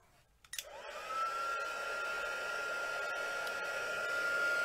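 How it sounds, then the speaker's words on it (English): A crafting heat tool switches on after a couple of clicks, then blows a steady, loud rush of hot air with a faint whine that holds for several seconds. "Grab my heat tool, which I didn't have ready, all heated up"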